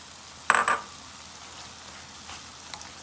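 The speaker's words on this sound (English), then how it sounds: "So now that our onion is cooking up a little" Onion cooking in a pan for brown stew chicken, a soft steady sizzle with one brief louder crackling burst near the start, fairly quiet, no talking.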